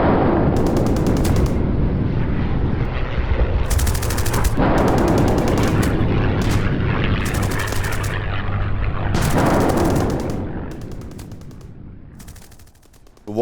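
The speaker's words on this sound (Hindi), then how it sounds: "इजराइल की सेना ऐसे ही टैंक के साथ चुन चुन कर हमास के बड़े बड़े कमांडर्स को मार रही है" Battlefield gunfire from an Israeli army tank firing shells in war footage, dense loud continuous bursts of shots and booms that keep hammering before thinning out toward the end.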